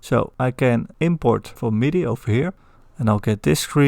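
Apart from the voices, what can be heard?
No everyday noise stands out behind the speech.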